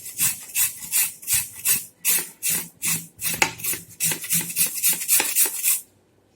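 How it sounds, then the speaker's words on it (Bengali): Raw potatoes are grated on a hand grater in a home kitchen for crispy shredded fried potatoes. Some fifteen close, steady, rhythmic scraping strokes play alone, then stop. "আমি নিয়েছি এটা আলু, সবগুলো এইভাবে ঘষে নেব।"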